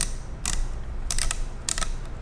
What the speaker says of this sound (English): That grinding sound you hear is the bead that's welded to the back of the castle nut.